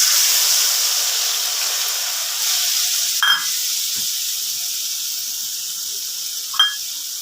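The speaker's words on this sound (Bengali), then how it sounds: "তেলটা গরম হয়ে গেছে, আমি এবার মশলাটা দিয়ে দিচ্ছি।" Spice paste sizzling and hissing in hot oil while a Bengali kajoli fish curry is being cooked, a loud continuous fry that slowly eases, with a couple of brief sharper crackles and no talking.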